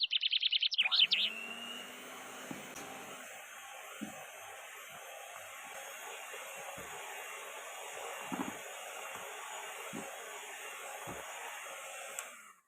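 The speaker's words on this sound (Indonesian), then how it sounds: "kita mixer dengan kecepatan paling rendah, ini kita mixer asal rata saja" An electric mixer runs at its lowest speed through sifted flour for a sponge cake, a steady close whir lasting several seconds with a few soft knocks, after a brief high chirp at the start.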